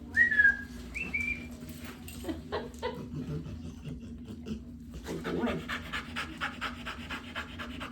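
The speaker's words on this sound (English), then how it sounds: "All I can hear is your panting." Close, rapid dog panting in a steady rhythm, with a couple of brief whistle-like squeaks near the start and faint background noise.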